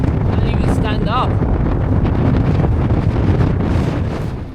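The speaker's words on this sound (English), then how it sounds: "we're flying now with the wind." Strong wind buffets the microphone on a high ridge in Patagonia, a loud, steady roar that fills the whole clip and eases slightly at the end, with a faint voice briefly audible beneath it.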